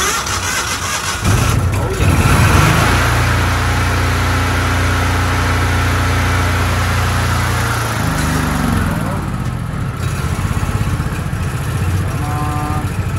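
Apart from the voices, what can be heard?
engine being started with choke on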